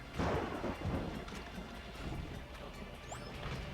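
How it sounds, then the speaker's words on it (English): Rolling thunder from a nighttime storm in Jak II, a soft low rumble that swells early and then settles into a continuous faint roar, with no voices over it. "We got thunder and lightning."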